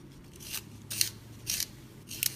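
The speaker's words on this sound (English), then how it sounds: "Sharpen this again." Pencil sharpened during a drawing session, four short raspy scraping bursts spaced about half a second apart, close and fairly quiet over a low background hum.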